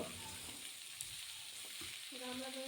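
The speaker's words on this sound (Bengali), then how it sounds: "সবজিগুলো দিয়ে এখানে একটু ভালোভাবে কিছুক্ষণ নেড়ে চেড়ে কষিয়ে নিতে হবে সবজিগুলো" Aubergine, tomato and potato for a vegetarian labra curry fry in a pan with a soft, faint sizzle and occasional stirring scrapes.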